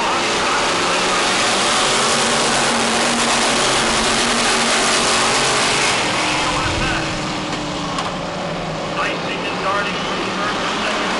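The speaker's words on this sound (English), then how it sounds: "And here's the hobby stock race. The start of the hobby stock." Hobby stock race cars roar off at the start of a race, a loud dense wash of engines. A commentator talks over it throughout.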